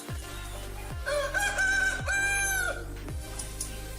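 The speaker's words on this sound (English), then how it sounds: "the Dong Tao chicken breed are known to be pretty" A Dong Tao chicken, the Vietnamese dragon-chicken breed, crows in a loud drawn-out call that repeats twice close up, broken by sharper clucks and a steady low hum.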